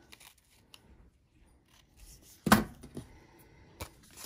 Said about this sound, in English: trim the ribbon a bit.